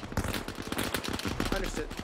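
Dense automatic gunfire in Arma Reforger, a rapid string of sharp shots close by, with voices mixed in under the bursts.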